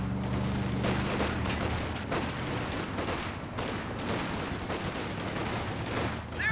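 Dense gunfire from a strategy video game, with a machine gun setting up amid a fusillade of rapid, overlapping shots and booming bursts that run continuously and loudly throughout.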